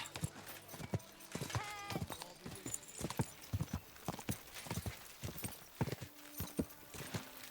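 Horse hooves clip-clop at a brisk, steady pace in the medieval video game Kingdom Come: Deliverance II, with a brief whinny early on; the hoofbeats are close and clear, and no one speaks.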